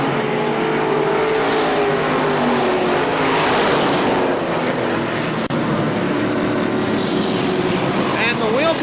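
Race cars roaring around KilKare Speedway during a Labor Day event, a dense continuous engine blare from the pack with cars passing and a public-address commentator talking over it throughout.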